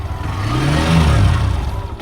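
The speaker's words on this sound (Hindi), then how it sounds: "अभी मैं इसको बोलूँगा एक बार गियर में रेव करने के लिए।" Hero Xtreme 125 R motorcycle in first gear, the engine gently revved, rising and falling once in pitch with a mechanical whir and clatter; close and moderately loud, no voices.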